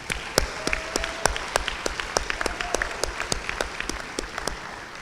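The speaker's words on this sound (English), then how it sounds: "Let's give them our champions another big round of applause." Sparse, distinct claps ring out from an audience at a college national champion celebration for a cheer team, individual hand claps spaced irregularly across a thinner background of applause.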